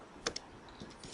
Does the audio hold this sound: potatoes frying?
no